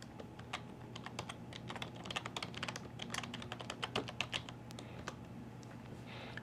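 Quick, irregular keystrokes clatter on a computer keyboard as a folder name is typed, close and fairly quiet with no voices over them.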